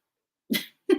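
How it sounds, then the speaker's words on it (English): A dog gives two short, fairly loud barks or huffs close by indoors, about a third of a second apart, with no talking over them. "That's my dog."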